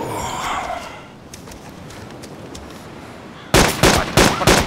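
A few seconds of quiet ambient hiss in DayZ, then a loud, close burst of rapid gunshots, several sharp cracks in quick succession near the end.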